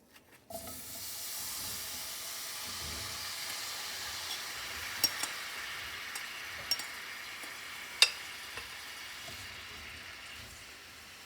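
Apples dropped into melted butter in a skillet set off a broad, steady sizzle and hiss right after a few initial clunks, with occasional light clicks and taps over the continuous frying noise, close and without talking.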